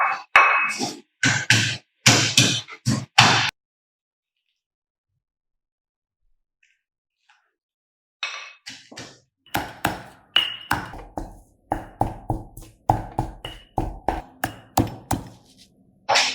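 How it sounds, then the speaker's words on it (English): Stone mortar and pestle crushing fresh curry paste ingredients such as chili and herbs for a freshwater prawn chu chi curry: rapid bursts of close, dull pounding thuds, a pause of several seconds, then a long steady run of rhythmic strikes. "we crush this one with the mortar stone"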